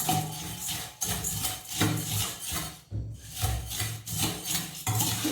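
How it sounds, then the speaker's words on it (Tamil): Masala being mixed by hand into roadside-style bhel puri, heard as close, continuous rustling and scraping of puffed rice and dry ingredients in a bowl, moving in uneven strokes with brief pauses. "இதை நம்ம நல்லா மிக்ஸ் பண்ணி எடுத்துடலாம்."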